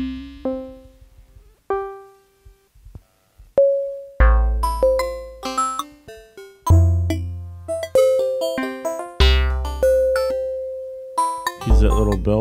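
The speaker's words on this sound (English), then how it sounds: "That little bell sound." A Nord Micro Modular synthesizer plays a little bell patch, with sparse plucked tones at first, then a busier sequence of bright bell-like notes, each striking and decaying quickly over a deep pulsing bass.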